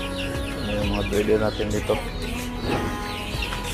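Shamo chickens cluck and chirp nearby in short, irregular bursts while a person speaks over them outdoors.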